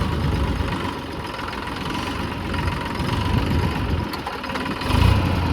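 A tractor engine idles close by, a steady low throbbing rumble with a rough knocking texture, holding fairly even throughout and swelling slightly near the end.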